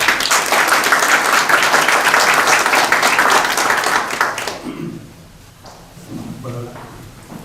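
An audience at an innovation workshop claps to welcome a speaker, loud and dense for about four seconds before fading out, followed by a voice talking.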